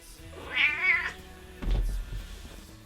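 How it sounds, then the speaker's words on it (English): A domestic cat gives a clear, close meow, followed after a short pause by a lower thump and rustle nearby. "Oh, here's the cat."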